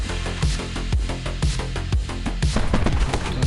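Rapid bursts of gunfire in the side-scrolling action game My Friend Pedro, a dense run of sharp punchy cracks with low booms, firing in quick irregular volleys throughout without pause.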